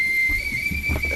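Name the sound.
a man whistling outdoors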